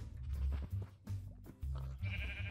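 Several sheep bleating in the Minecraft video game, a run of short nasal bleats in quick succession, loud and close, with no talking.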